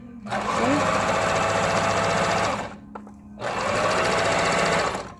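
A sewing machine runs a straight stitch in two steady bursts of rapid, even needle chatter, loud and close, with a short pause between them.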